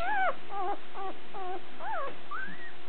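A Border Collie puppy whimpers in a series of five or six short, high, wavering cries spaced about half a second apart, close and clear with no voices.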